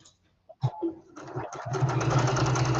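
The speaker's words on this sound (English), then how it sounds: "Now I have got black thread in my sewing machine, just so that you can see the stitches" A sewing machine stitches black thread along fabric binding, starting with a few taps and short bursts before settling into a steady, close, whirring hum. No one speaks.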